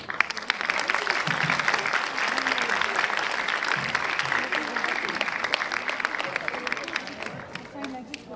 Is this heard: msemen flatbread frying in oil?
no